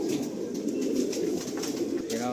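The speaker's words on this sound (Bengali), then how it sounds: "দেখুন এই একটা নর পায়রা দেখুন" A male breeder pigeon coos in a loft, a low, rolling, continuous coo heard up close with a faint clatter near the end.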